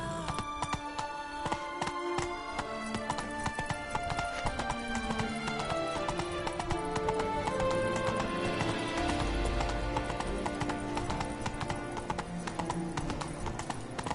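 Roach, Geralt's horse in The Witcher 3, gallops with steady rhythmic clip-clopping hooves, loud and close, over a dense game music and ambience bed.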